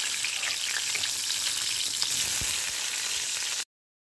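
Garlic and onion sautéing in hot oil for munggo, a steady close sizzle with a faint stir partway through before cutting off abruptly.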